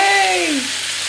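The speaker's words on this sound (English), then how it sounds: "So you're just going to stir this all around, making sure all the diced onion is nice and dispersed throughout the bacon." Diced onion and bacon sizzle loudly in a pan as they are stirred, a close, bright crackle with a brief tonal sound sliding down over it before the frying settles slightly quieter.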